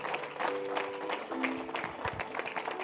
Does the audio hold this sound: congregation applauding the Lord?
yes